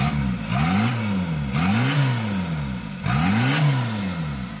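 Citroën C15 Turbo Dangel 4x4 engine revs up and down in three repeated bursts of throttle, close and loud, its pitch rising and falling with each blip, with no talk over it.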